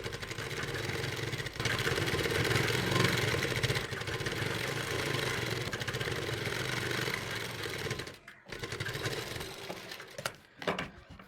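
Sewing machine stitching dori piping onto a kurti, a fast continuous mechanical whir running steadily and close, then stopping abruptly near the end with a few short restarts.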